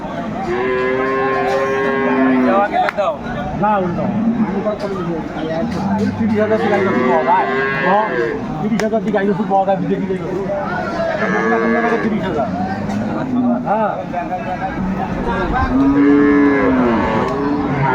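Dairy cows and calves mooing at a cattle market in Aftabganj, Dinajpur: long, loud, repeated lowing calls from several animals, close, over a steady hubbub of crowd chatter and voices.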